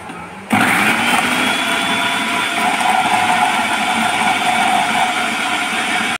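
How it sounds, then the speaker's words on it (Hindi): An electric blender grinds green chilies, white cumin and spices in one continuous loud whirring run. It kicks in abruptly after a brief quieter moment and holds steady with no talk. "इन सबको हम ब्लेंड कर लेंगे"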